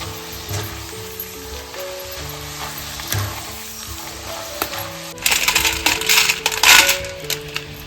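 Jackfruit chips deep frying in hot oil give a steady sizzle under soft background music, which swells into a louder, crackling burst of bubbling partway through.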